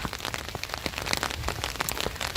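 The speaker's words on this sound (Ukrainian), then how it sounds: "Достала парасолю, бо дощ посилився." Heavy rain drums on surfaces and an umbrella in a Dutch village yard: a dense, close, continuous patter full of sharp individual drop hits, with no voices.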